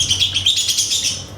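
Sparrows chirping outdoors, a quick busy run of high bright tweets from several birds, close and fairly loud, with no talking.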